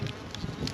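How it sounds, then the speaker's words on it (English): Honey bees buzz in a hive during an early June hive check, a close, steady insect drone with faint higher whines over it, lasting under a second. "now look at all the bees up there too."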